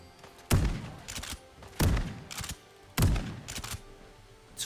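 Three loud, close blasts from an unsuppressed Mossberg 590 pump shotgun in Fallout 4, each a heavy boom followed by a short mechanical clack of the pump action, spaced about a second and a quarter apart.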